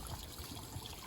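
Water from a small backyard waterfall driven by a 620 gallon per hour pump trickles steadily into a creek and pond, a faint continuous splashing murmur.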